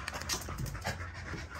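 An XL pitbull puppy pants steadily and close up in quick, breathy bursts, with no talking.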